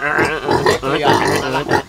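Pig grunting at a Dayak longhouse during preparations for the Gawai festival, with a rapid series of loud, close, rough grunts and snorts in uneven bursts.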